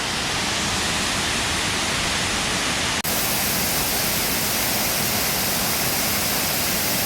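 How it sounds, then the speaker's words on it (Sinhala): The Uran Wetuna Ella waterfall in the Sinharaja rain forest roars as a dense, steady rush of falling water, loud and unbroken throughout. "ඌරන් වැටුණු ඇල්ල."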